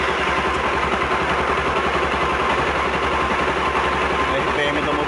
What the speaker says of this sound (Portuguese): Vou dar partida na motocicleta.